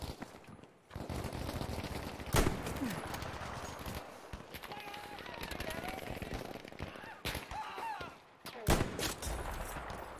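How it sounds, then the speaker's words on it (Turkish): Incoming gunfire in Battlefield 5 Conquest mode, scattered sharp shots and bursts cutting through busy battle ambience with a few loud cracks and hoofbeat-like clatter in the background. "Abi kafayı çıkardığım anda bir yerden mermi geliyor"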